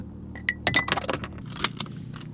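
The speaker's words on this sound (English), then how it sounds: "Do you want to hear what the sound is of a handle breaking?" A sharp crack followed by a brief clatter of hard, clinking pieces, then a second snap, close and fairly loud over a low rumble.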